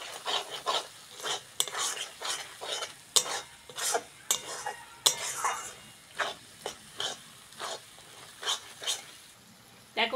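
Taro leaves and spices sizzle in a pan for chicken lotpoti while a utensil scrapes and stirs in steady repeated strokes, close and moderately loud, with no talking.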